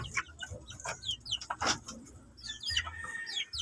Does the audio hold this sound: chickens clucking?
yes